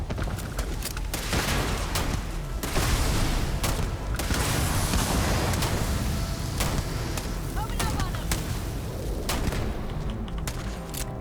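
Sustained gunfire rattles through a Starfield firefight in dense, overlapping bursts and booms that carry on the whole time, with voices shouting over the shooting.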